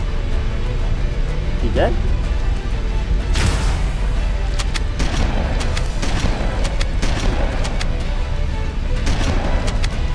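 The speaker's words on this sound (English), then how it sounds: "what I'm gonna do is use my plasma pistol." Plasma pistol shots and booming weapon fire from Halo: Combat Evolved ring out in repeated bursts amid dense battle noise, with a player talking over the action.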